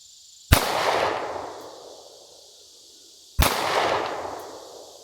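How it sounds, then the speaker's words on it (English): Two loud S&W M&P Shield Plus pistol shots fired outdoors at a 10-inch steel plate 60 yards away, each a sharp crack with a long echoing tail, about three seconds apart, no talking. "I'm gonna shoot that 10-inch plate actually because I can't see the 12-inch from here."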